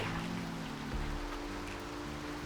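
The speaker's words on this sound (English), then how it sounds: "I think I'm done with this shot because of all the hail." Hail falls steadily outdoors in a broad, continuous patter and hiss, loud and close throughout with no voices.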